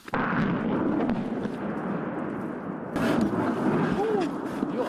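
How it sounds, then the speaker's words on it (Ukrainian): Heavy, rumbling explosions boom continuously, with another loud blast around the three-second mark, under a dense wash of low noise. "Але вибухи примушують постійно зупинятися."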